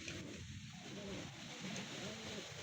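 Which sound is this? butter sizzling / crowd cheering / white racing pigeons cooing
white racing pigeons cooing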